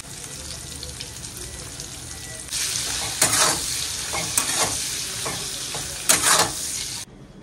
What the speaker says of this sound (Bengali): তেল গরমও হয়ে গেছে, উচ্ছেগুলো একটু ভেজে নিই।